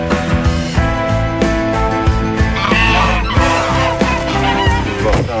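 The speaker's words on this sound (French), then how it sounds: "Ça, c'est pas des canards, ça. C'est des jarres." Ganders honk loudly and repeatedly in a scene from the French film Médecin de campagne, their calls blended into a dense, busy soundscape.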